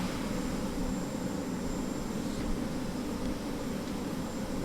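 An Air India Express Boeing 737-800 heard from outside, a steady broadband jet roar with a faint high whine, constant and even in loudness throughout.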